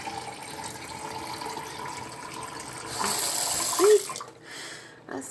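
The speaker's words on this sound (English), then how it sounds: "Got my filtered water coming out of my kitchen tap." Filtered water running steadily from a kitchen tap, a continuous close splashing stream that swells briefly near the end before tapering off.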